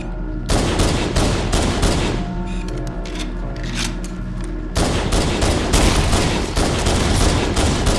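A pistol fires repeatedly in the game Halo CE, a rapid run of loud, sharp cracks in quick succession, pausing midway before resuming in a second dense burst.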